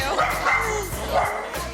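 Shelter dogs bark and yip in a pet photography studio, several sharp close barks and whimpers overlapping with people talking.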